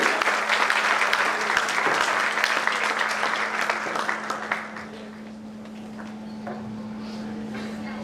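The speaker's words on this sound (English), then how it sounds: "let's have a huge round of applause" An audience applauds to welcome guest of honor Sandeep Jain at a college event, a dense wash of clapping that fades after about five seconds, with a steady electrical hum running underneath.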